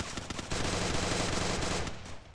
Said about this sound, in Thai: น้องภูมิแม่งยิงผมนำผมไปหมดทุกคน